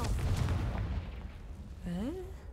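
Confringo fire spell in Hogwarts Legacy bursts with a loud booming blast and rumble early on, followed by a rising voice-like tone near the end.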